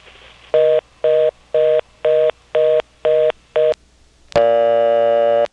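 Touch-tone DTMF dialing on a telephone line served by an independent step-by-step exchange in Nantes, Quebec: seven short, evenly spaced beeps, then a brief click and a loud steady tone that carries on to the end, with no voices.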